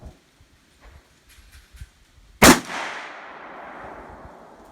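A single loud rifle shot from a 30-30 at an outdoor shooting range cracks sharply and rings out in a long decaying echo, preceded by faint handling clicks.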